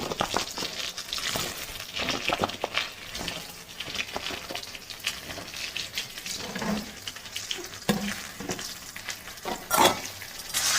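Kohlrabi, potatoes and tomato frying in oil left over from frying fish, a steady close sizzle with scraping stir strokes and a few brief clatters, no talking.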